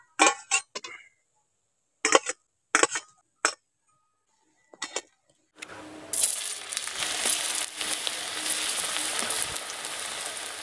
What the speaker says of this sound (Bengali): কোপ্তাগুলোকে উলট পালট করে ভালো করে ভেজে নেব।